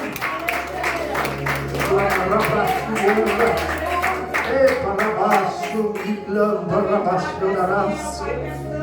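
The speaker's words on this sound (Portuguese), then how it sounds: "você pode aplaudir essa noite" A church congregation applauds during a worship service, producing a thick run of clapping for several seconds that thins out toward the end, mixed with a voice speaking over it.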